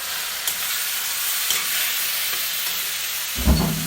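Knolkhol (kohlrabi) sizzles steadily in a pan as it is fried and stirred, a continuous close hiss with a sharper clatter of the utensil near the end.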